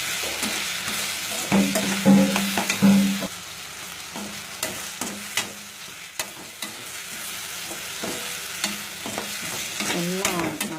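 Ingredients for mushroom kulambu sautéing in a pan, with a steady close sizzle broken by repeated spoon scrapes and stirring knocks, louder clatter early on and a brief hum near the end, without any speech.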